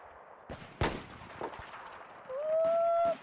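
Sniper rifle shots in Battlefield 4, a sharp loud crack followed by a few quieter distant reports, then a rising whistling tone near the end.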